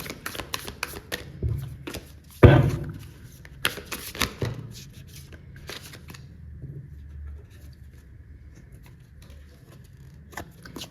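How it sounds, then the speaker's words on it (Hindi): Tarot cards are shuffled by hand in quick riffling bursts, with one sharp slap as cards drop, followed by quieter intermittent flicks and rustles close by. "मेरे कार्ड्स गिर रहे हैं ना यहाँ पे"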